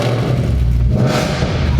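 A Mercedes C63 AMG's naturally aspirated 6.2-litre V8 revs loudly up close, a deep throaty rumble rising and falling in pitch over a couple of seconds.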